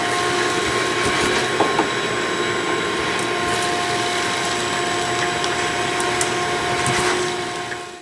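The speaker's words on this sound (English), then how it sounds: "We're going to vacuum the area to make sure it's nice and clean" A vacuum cleaner runs continuously, cleaning the floor area before loose tiles are fixed, giving a loud, steady whooshing drone with no talking.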